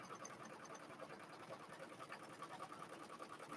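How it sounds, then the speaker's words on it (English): An embroidery sewing machine stitches a design in the hoop, a steady rapid mechanical whirr with a regular ticking rhythm running evenly throughout at a moderate, faint level. "we're going to go ahead and start stitching"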